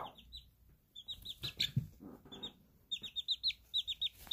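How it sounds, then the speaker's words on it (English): Several chickens clucking and chirping close by, short bursts in quick irregular runs with brief quiet gaps between. "All three chickens together again."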